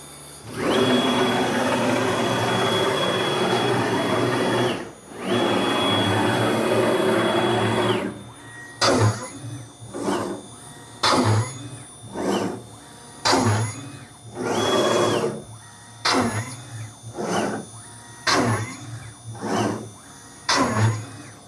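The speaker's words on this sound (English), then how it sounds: "You'll see the spindle fire up." A CNC machine's spindle spins up and bores three holes for Lamello Zeta P-2 pins: a steady high whine with a continuous tone, a brief drop, then a run of short repeated cutting bursts with pauses between them, close and loud with no talking.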